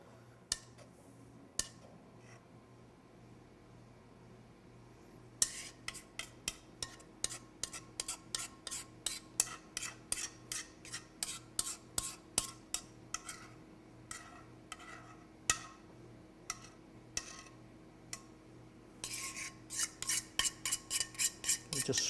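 A utensil scrapes the last bit of chocolate-chunk batter from a mixing bowl in a home kitchen. It makes many short, crisp scraping clicks in quick irregular runs, quiet and close, with no talking.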